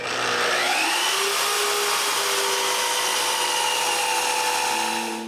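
A power saw cuts a 45-degree angle through a cedar board for a patio table, a loud continuous whine that rises in pitch as the blade spins up and holds steady through the cut for about five seconds.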